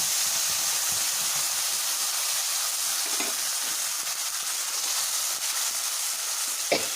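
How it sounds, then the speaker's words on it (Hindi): Ground onion, garlic and ginger masala frying in oil, a continuous bright hissing sizzle close by, with a few soft scrapes of stirring. "पहले मसाला के फ्राई कर लेबै हम"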